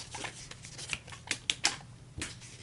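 A tarot deck in its box smacked against a surface to settle the cards, giving a handful of quiet, sharp taps and clicks spaced irregularly, close by, with faint card rustling between them.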